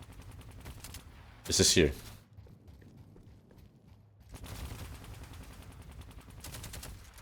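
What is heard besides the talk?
gunfire from the video game Deadlock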